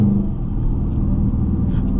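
Dodge Charger R/T driven through wooded roads, its engine a steady low rumble heard from inside the car, continuous and fairly loud with no talking.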